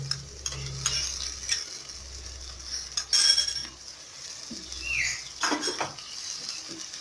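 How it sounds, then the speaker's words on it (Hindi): Tomato paste going into a fish curry in a pan, followed by light stirring with a spoon: soft scrapes, clinks and a faint sizzle, close and fairly quiet, with no talking. "अब हम इसमें टमाटर का पेस्ट डाल देंगे।"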